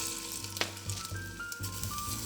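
Meatballs sizzle steadily in hot olive oil in a pan, a loud close frying hiss with small crackles and a soft bump as one is set in.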